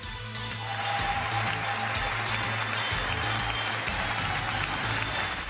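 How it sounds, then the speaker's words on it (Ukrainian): A large audience applauds during a US presidential speech inside the Capitol, a steady, dense wash of clapping that holds evenly over a low, constant hum. "А його промови переривались оплесками."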